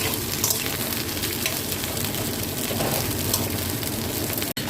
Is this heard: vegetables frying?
yes